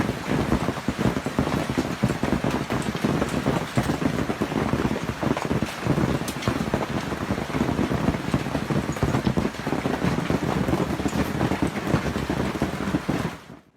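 Storm rain in Canberra, Australia, a dense, steady roar of heavy rain and gusting wind buffeting the microphone, loud and continuous throughout with no pauses.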